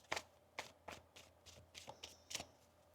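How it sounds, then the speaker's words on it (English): Tarot cards being shuffled by hand, a run of about eight crisp riffling bursts at a steady rhythm, close and fairly quiet, with no talking. "One more shuffle here."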